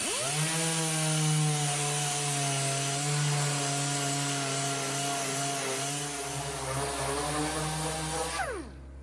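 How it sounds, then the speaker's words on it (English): A motorized saw-like tool cutting with a steady high whine and strong tonal harmonics, continuous and close, dropping in pitch at the end as it winds down; the sound is powered rather than hand sawing, during restoration of a 1950 Farmall H tractor. "you can use it as a hand saw to get in these spots like this"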